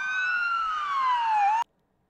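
A police car siren in Warsaw, Poland wails in one long, loud, steady tone that slides slowly downward, then cuts off abruptly, leaving near silence.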